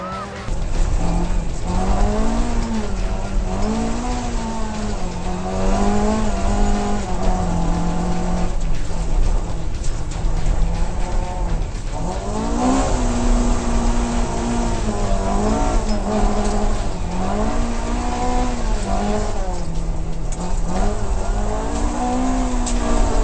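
Race car in a Super Modified class at a Barbados circuit takes a corner on a wet, slippery track, its engine revving and dropping through gears in a loud, continuous drone with rising and falling pitch.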